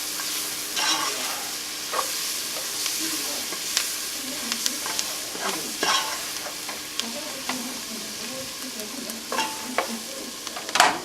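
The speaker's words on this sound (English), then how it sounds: "Stir that in a little bit." A thickening sauce for spinach and crab being stirred in a hot pan, with continuous sizzling and repeated scraping strokes of the spoon in an uneven rhythm, close and fairly loud, with no voices.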